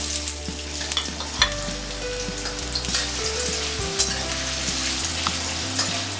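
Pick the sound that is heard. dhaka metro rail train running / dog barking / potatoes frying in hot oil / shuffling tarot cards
potatoes frying in hot oil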